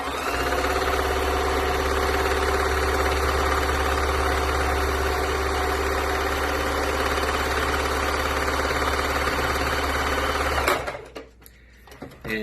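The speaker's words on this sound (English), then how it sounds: "we're going to sew right along the edge here" Electric sewing machine stitching along the edge of an inside-out two-layer cloth face mask, a steady close whirring hum running continuously for about eleven seconds before stopping abruptly.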